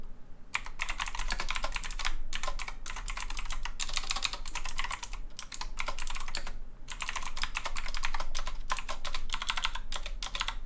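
Fast typing on a clicky computer keyboard, crisp close-up key clatter in continuous bursts broken by brief pauses, loud with no talking over it.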